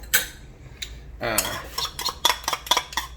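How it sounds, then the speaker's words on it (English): A spoon scrapes leftover Alfredo sauce out of a container in a series of short, close, bright metallic scrapes and clinks, with a longer drag in the middle. "Let me get a spoon because I like to get everything out of there."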